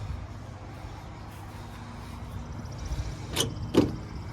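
A vintage enclosed trailer door is wedged shut with a screwdriver, giving a low rumble followed by two sharp metallic knocks near the end, close and fairly loud against faint background noise.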